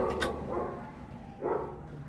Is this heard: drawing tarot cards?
no